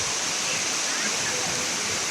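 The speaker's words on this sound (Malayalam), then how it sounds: "ഇത് നമുക്ക് ചെറിയ ഇടുങ്ങിയ പാറക്കല്ലിൻ്റെ ഇടയിൽ കൂടെ ഒഴുകുന്ന വെള്ളച്ചാട്ടം ആയിട്ടാണ് തോന്നുന്നത്" Water pours between narrow rocks at Elephant Falls in Shillong, Meghalaya, a steady, loud, close rushing roar that fills the whole stretch without a break.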